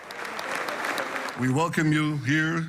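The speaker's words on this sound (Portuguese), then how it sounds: "No parlamento israelense, os congressistas receberam Trump com aplausos de pé." Lawmakers in the Israeli parliament give Donald Trump a standing ovation, a steady wash of applause from a large chamber that carries on as a voice speaks over it in the second half.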